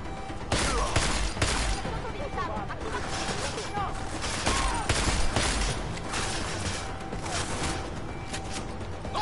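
Shotgun blasts in Deus Ex: Mankind Divided: sharp, loud reports repeating every second or so amid game effects, with people talking over the shooting.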